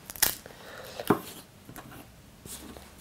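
A knife trims paper-dry, crunchy fat and membrane from a dry-aged T-bone steak, giving a couple of sharp, close crackling cuts over a quiet room with faint scraping between.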